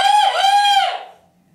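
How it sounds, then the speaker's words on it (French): A rooster crows once, close and loud, a bright drawn-out call that fades away after about a second, with no other sound around it. "j'ai entendu le coq chanter."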